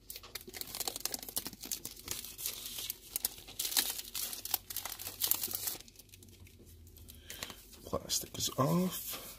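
Plastic wrap crinkles and tears as it is stripped from the DJI Osmo Pocket box during an unboxing, a close, continuous crumpling with sharper rips, and a voice is heard around it.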